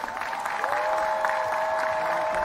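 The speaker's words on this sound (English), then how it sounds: "Let's give the class of 2026 a loud round of applause." Graduating class of 2026 and their guests at a university commencement ceremony clap together, a steady, dense wash of applause that holds at an even level throughout.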